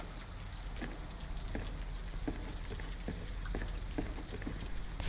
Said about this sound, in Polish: Nie ma co już kurde dłużej na tym deszczu siedzieć.